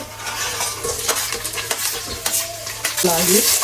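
Ginger and garlic sauté in a pan, with carrot, curry leaves, green chillies and onion nearby, giving a constant crackling sizzle punctuated by sharp clinks and scrapes of a spoon against the pan.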